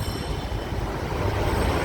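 A Dhaka metro rail train at Secretariat station near Paltan, giving a steady, loud low rumble of rolling wheels and carriage noise that holds evenly throughout, with no voices.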